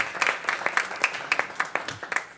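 Audience clapping at a school board meeting honoring schools, a sparse patter of individual hand claps with uneven rhythm, fairly light and moderately distant, no talking over it.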